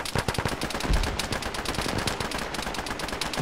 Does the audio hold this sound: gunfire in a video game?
yes